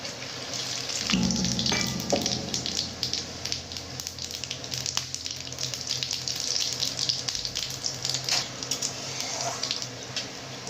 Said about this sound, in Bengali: এইবারে এই তেলে আমি গোটা গরম মশলা দিয়ে দেবো।